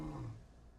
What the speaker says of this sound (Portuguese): Seaboy começou a rugir